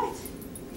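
A dog gives a soft, brief whimper at the start, followed by faint low background noise.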